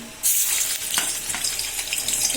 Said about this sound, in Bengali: এখন এই যে মাছ মাছগুলি ভাজবো